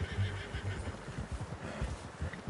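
In a Red Dead Redemption 2 video game scene, a horse snorts and whinnies close by, with soft hoof clops and low rumbling ambience underneath.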